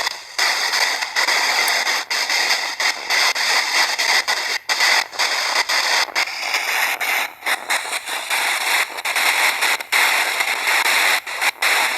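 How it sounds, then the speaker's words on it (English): Steady broadband white-noise static hisses continuously and loudly with no pauses, crackling with brief dropouts and no voices over it. "Do you find the sound of the white noise comforting?"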